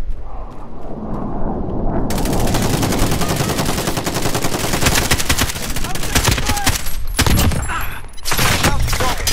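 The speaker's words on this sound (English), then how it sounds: "I'm getting shot at." Loud, sustained gunfire from a Halo shooter, continuous automatic bursts and heavy impacts stacked close together, with a few sharper isolated shots near the end and faint voices under the noise.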